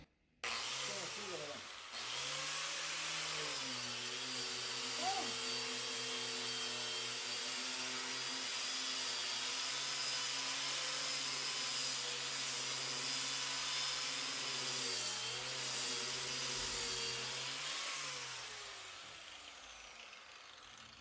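A Makita M9510B angle grinder-sander fitted with an 80-grit disc runs on 220 volts. It starts with a steady, loud motor whine and a broadband rush that holds for about fifteen seconds, then winds down near the end.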